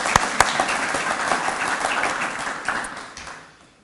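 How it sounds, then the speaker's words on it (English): Audience applause at a Velocity Center ribbon-cutting ceremony, honoring the town of Indian Head in its centennial year, a steady crowd of clapping that opens with a couple of sharp claps and fades away near the end. "let's give Indian Head a round of applause"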